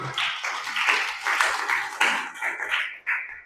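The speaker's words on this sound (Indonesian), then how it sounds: "Tepuk tangan bagi Tuhan dulu." A church congregation clapping together in a Sorong worship service, a dense rhythmic patter of many hands rising and falling in waves, close and lively, with no voices.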